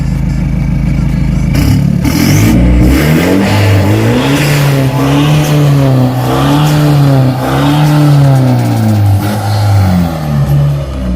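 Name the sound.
Nissan Navara NP300 pickup revving with aftermarket exhaust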